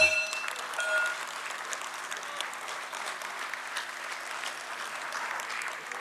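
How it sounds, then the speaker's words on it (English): An audience claps steadily at the listing ceremony of Quess Corp Limited, with dense, sustained applause that starts loud and holds at an even level. "A nice big round of applause,"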